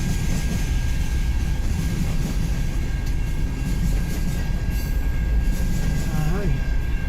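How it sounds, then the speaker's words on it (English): A long CN freight train rolls past continuously, a broad rumble of wheels and cars with a steady high squeal held above it, close and loud throughout, with a brief hint of voices near the end. "That's a long train."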